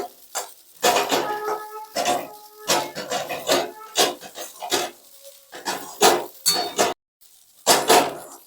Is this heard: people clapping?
no